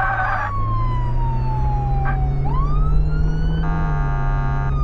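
A loud ambulance siren from the Flashing Lights emergency-services video game, with wailing, sweeping tones that switch to a fast yelp pattern over a steady engine drone, close and continuous.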